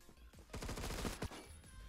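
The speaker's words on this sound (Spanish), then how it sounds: "Me están disparando." A quick burst of automatic gunfire from Phantom Forces on Roblox crackles in rapid succession, fairly quiet in the mix, with game sounds around it.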